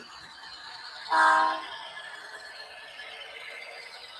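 A model train locomotive running on a small loft layout, a steady faint rolling hum with a brief louder horn-like tone near the start, no voices.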